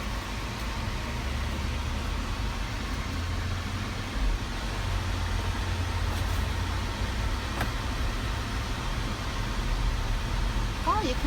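Infiniti QX80 SUV driving after a throttle body and mass air flow sensor cleaning, a steady smooth engine and road-noise hum heard from inside the cabin, continuous and moderately loud.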